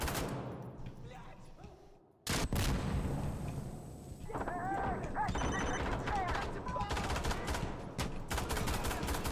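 Rapid gunfire from the video game Insurgency: Sandstorm, a low-recoil weapon fired in loud, dense bursts that start abruptly after a quieter stretch, with a voice talking over the shooting.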